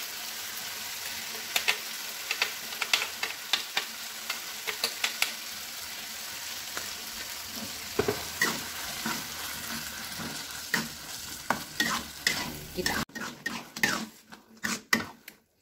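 Shallots for green chili sambal stirring and frying in hot oil, a constant crackling sizzle with repeated clacks of a spatula scraping the pan, growing sharper and more frequent toward the end.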